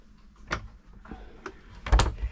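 The galley fridge door on a 2005 Sealine S29 boat swinging open with several light clicks and taps, then a firmer thump as the latch releases, close by and fairly quiet.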